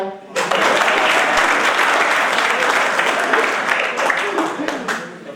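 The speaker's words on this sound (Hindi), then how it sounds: "ताली बजाओ।" An audience at a poetry event breaks into sustained, dense applause that rises abruptly, holds steady and loud for several seconds, then begins to taper off.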